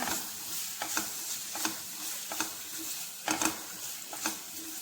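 Mushrooms fry with masala and salt in a pan over a low flame for a pepper gravy, a soft continuous sizzle broken by regular scraping stirs of a spoon, fairly quiet and close.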